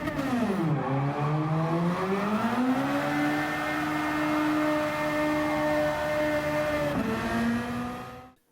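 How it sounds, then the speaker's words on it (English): Upgraded Honda Civic FL5 in Gran Turismo 7 revs hard, the engine note dipping then climbing and holding a loud, strained high pitch before a quick shift and cutoff. "the FL5 once upgraded sounds very angry indeed"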